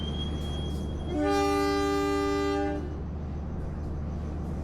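Pangandaran executive train sounding a loud, steady horn blast of about one and a half seconds as it departs the station, over a low rumble of rail and engine noise.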